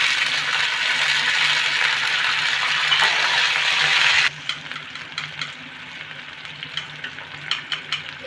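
Water poured into a hot pan of whole curry leaves and green chillies at home, a loud broad sizzle that holds steady for about four seconds, then drops to a quieter bubbling with scattered pops and stirring clicks.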